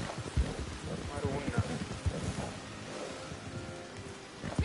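Patter of falling water and rain on surfaces in a video game, steady and fairly close, with some low thumping and faint voice-like tones mixed in.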